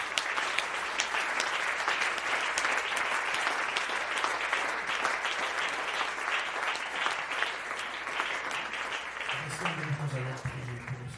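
A church congregation applauds at a Sunday service, with steady dense clapping that fills the whole stretch; a low hum enters near the end as the clapping carries on.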